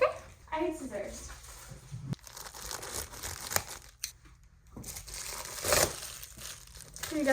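Packaging crinkles and tears in bursts as an Amazon parcel containing a book is opened, with voices talking in between the rustling.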